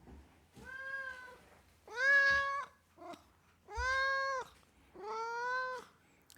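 A pet cat meows four times, loud and close, with drawn-out wailing calls separated by short pauses and a faint chirp between them, and no talking.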